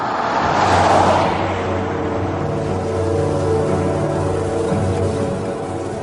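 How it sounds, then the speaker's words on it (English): A car driving across miles of open desert, with a steady engine drone and road rumble that swells early and then holds evenly, fairly close, with no one speaking. "nothing moves, except one car with two men on a mission"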